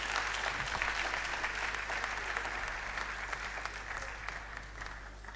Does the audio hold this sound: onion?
no